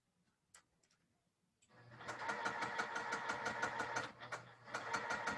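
A sewing machine stitches quilt fabric strips together, starting after a couple of faint clicks and then running fast and steady with a rapid needle rhythm, close and fairly loud, with a brief slowdown near the end.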